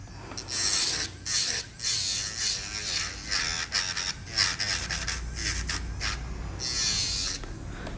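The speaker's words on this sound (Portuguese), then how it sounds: "eu vou lixar bem pouquinho mesmo" Light filing on a gel nail during a decorated gel maintenance, heard as a steady scratchy rasp of short back-and-forth strokes with brief pauses between them, close and fairly loud.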